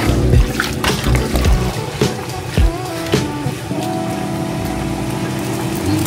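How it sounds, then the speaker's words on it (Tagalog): Water is poured into a pot of simmering Ilocano-style pork igado, a steady pouring and sizzling wash with a few clunks of the pot and utensils, no talk. "dagdagan pa natin ng 1 cup na tubig"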